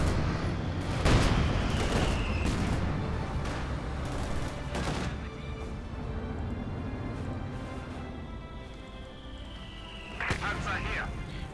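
An IS-2 tank in the Company of Heroes 2 strategy game fires heavy cannon shots, a few sharp booms spaced seconds apart over rumbling battle ambience while a commentator talks throughout.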